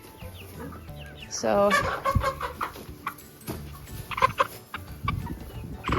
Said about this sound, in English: this one's one of our hens